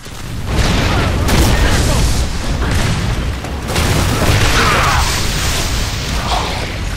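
Grenade explosions in the video game Gears of War 3 produce loud, sustained booming rumbles that swell and roll on, with muffled talk underneath at times.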